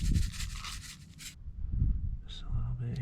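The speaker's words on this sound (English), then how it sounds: "We're gonna kind of just rub that in really good." Hands rubbing pepper seasoning into an Angus ribeye steak outdoors, a close, steady scrubbing and squishing texture with bursts of hiss early on and a brief thin tone near the end.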